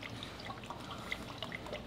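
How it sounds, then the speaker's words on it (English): Motor oil pours through a funnel into the engine of a 2022 Cadillac CT4-V Blackwing during an oil change, a soft continuous liquid trickle with faint gurgles, close and quiet, with no talking. "fluid just pouring into the motor"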